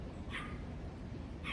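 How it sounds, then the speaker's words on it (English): A neighbor's dog barks twice at a distance, short sharp yaps about a second apart over steady outdoor background hiss. "The neighbor dog's barking and Courtney coming out to answer."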